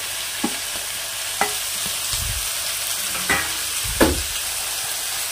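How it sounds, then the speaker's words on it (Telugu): Carrots, beans, tomato, fennel seeds and spices sizzling in a pan for egg vegetable biryani, with a steady hiss and a few sharp stirring scrapes and clinks. "క్యారెట్, బీన్స్, టమాటో అన్నీ వేసి ఫ్రై చేసేసుకున్నాం"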